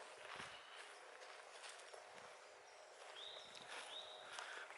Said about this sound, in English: we're being loud and we're stomping through